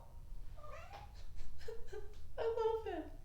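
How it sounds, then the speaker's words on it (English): Domestic cat meowing several times close by, a run of short needy cries followed by a louder drawn-out meow over a faint low background. "I have 3 cats, by the way. He's the only one you hear because he's the most needy."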